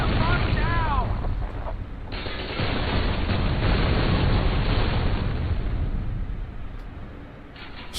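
A rocket launcher explosion in the shooter game F.E.A.R. 2 lands as a loud, dense roar, followed by a sustained rumbling wash of blast debris that stays heavy for several seconds before easing slightly near the end.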